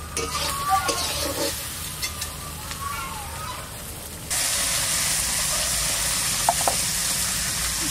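Fish frying in a kadai in a home kitchen, a steady sizzling hiss that grows louder and denser partway through, with soft clinks and faint background voices at the start.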